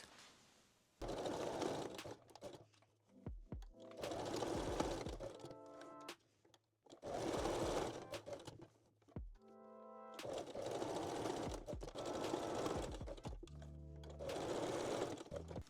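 Sewing machine backstitching the openings of a bikini top with a straight stitch, four loud rapid bursts of needle chatter separated by short pauses and clicks of the hand wheel and fabric handling, close up.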